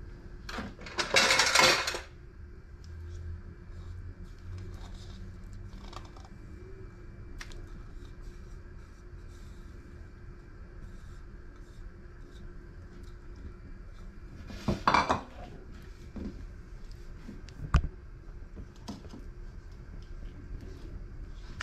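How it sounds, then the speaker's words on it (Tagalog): A spoon working peanut butter into a pot of kare-kare sauce, with two bursts of clattering metal scraping against the pot and scattered light clinks in between, close and otherwise quiet. "Kanawin ko na rin dito ang ating peanut butter."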